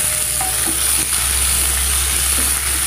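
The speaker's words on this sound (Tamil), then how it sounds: "தக்காளி போட்டுக்கலாங்க." Tomatoes frying with onion and garlic in a pan give a loud, continuous sizzle, with a few clinks and scrapes from stirring mixed in and no voices.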